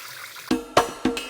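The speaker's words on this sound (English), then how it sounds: "drain out all the excess water." Excess water drains from freshly washed Chinese cabbage being prepared for kimchi, coming in three short, sharp splashing bursts over a quiet background.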